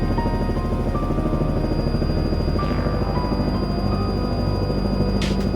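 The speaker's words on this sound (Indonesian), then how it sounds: "Peninjauan dilakukan melalui udara dengan menggunakan helikopter dari Bandara Halim Perdana Kusuma," A helicopter flies out of Halim Perdana Kusuma airport in Jakarta on an aerial survey of flooding, its rotor and engine making a loud, steady, pulsing drone throughout.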